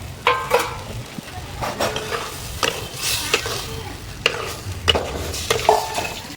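A spoon scrapes and clatters through potatoes frying in masala, giving irregular sharp stirring knocks over a soft, steady sizzle.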